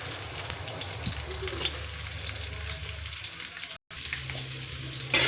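Onions fry in hot oil in a pan, a dense steady sizzle with soft stirring sounds, close and continuous apart from a brief cut near the end.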